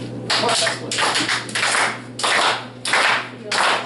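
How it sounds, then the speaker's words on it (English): A group claps hands rhythmically during a musical-chairs game, bursts of brisk clapping recurring in several waves with brief pauses between, close by, with voices talking alongside. "Everybody start clapping and then we'll start going."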